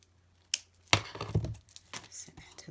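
Scissors snip through ribbon for a bow at close range, a sharp cut followed by a short burst of crinkling and rustling as the ribbon is handled.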